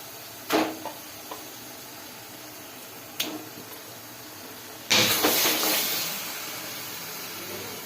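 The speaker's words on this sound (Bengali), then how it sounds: "তারপরে একটু খাসির চর্বিটার সাথে এটাকে কষিয়ে নেব" Goat fat sizzling in a pan while ghugni is cooked with tomato ketchup: a couple of sharp clicks, then a loud, close burst of frying hiss that slowly settles to a steady sizzle.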